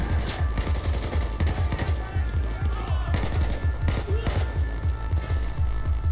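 Sustained machine gun fire from the video game Battlefield 4, a loud, rapid, continuous rattle of bursts running the whole time with brief gaps, alongside other gunshots in a busy firefight.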